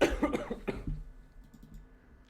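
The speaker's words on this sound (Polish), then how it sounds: "Mam kaszel." A man coughs several times in a quick cluster, close and fairly loud, then the sound trails off into quiet room noise.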